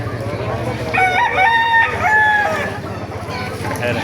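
A rooster crows amid a busy poultry market in Baliuag, Bulacan, its call rising over background chatter and clucking fowl, with several crows overlapping in the middle.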